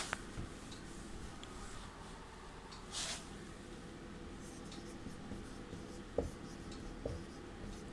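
Chalk or marker writing Sanskrit verb forms on a classroom board, faint scratchy strokes and occasional taps spread over several seconds, quiet and close, with a brief louder scrape partway through.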